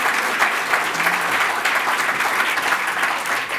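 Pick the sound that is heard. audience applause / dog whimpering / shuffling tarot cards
audience applause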